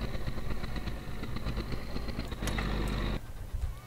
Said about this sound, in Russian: Хотя, смотрите, какой-то звук машина издает.